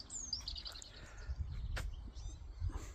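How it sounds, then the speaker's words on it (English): A robin sings somewhere in a garden, its faint, high chirping phrases coming from a distance over quiet outdoor background noise. "He can hear the robin somewhere."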